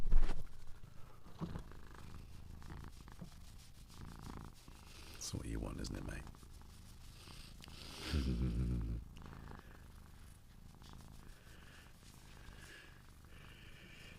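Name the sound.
cat purring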